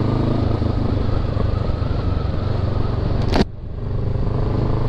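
A Honda CBR 500 R motorcycle cruises at an easy, steady pace, its engine droning loud and close with a constant hum and road noise, then briefly dipping after a sharp click near the end.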